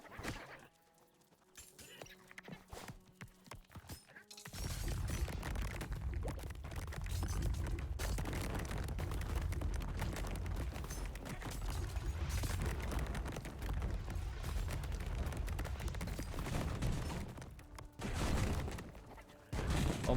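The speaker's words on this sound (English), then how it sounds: "there's like fire rocks and and like avalanches" Fiery rocks and avalanches in the game Unexplored 2 make a dense, continuous rumbling roar after a quiet opening with a few scattered clicks, with a brief louder burst near the end.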